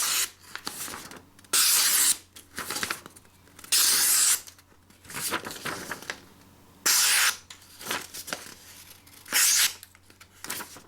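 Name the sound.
knife cutting paper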